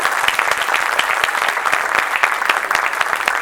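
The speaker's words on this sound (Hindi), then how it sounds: "जरा जोरदार ताली।" Loud, dense audience applause at a tribute gathering, a steady wash of many hands clapping with no gaps, continuing at even strength throughout.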